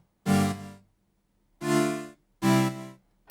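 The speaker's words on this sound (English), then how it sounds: "It's just saw waves." Three sustained synth pad chords built from plain saw waves on vintage analog machines, each swelling in and held for about a second with bright buzzy harmonics, separated by short silences.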